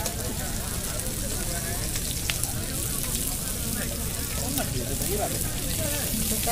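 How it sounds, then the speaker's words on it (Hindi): Usma fish frying over a wood-fired stove at a busy Ranchi village market, with a steady dense sizzle and crackle running throughout beneath crowd noise and voices. "हाँ, तो देखिए यहाँ मछली फ्राई कर रहे हैं।"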